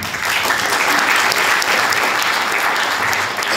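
Audience applause after a prize winner is announced at a Lauhanvuori‒Hämeenkangas Geopark event, a steady, dense clapping that fills the whole moment at even loudness with no voices over it.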